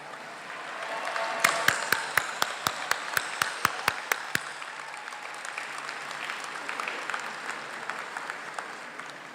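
Applause from a university commencement ceremony audience builds into a crowd of clapping, steady and moderately loud, with a few sharp, evenly spaced claps standing out early on.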